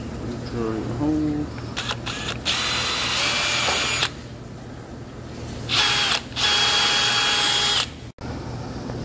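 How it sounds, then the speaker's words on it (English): A power drill whines in several bursts of varying length, close up, drilling a hole in a metal door jamb, with brief pauses between runs and some handling noise. "Drill the hole."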